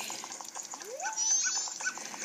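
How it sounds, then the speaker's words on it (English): A dog from the video game Majora's Mask 3DS gives short yipping, whimpering calls with a rising pitch sweep in the middle, set over steady game background music. "Goodness, that dog."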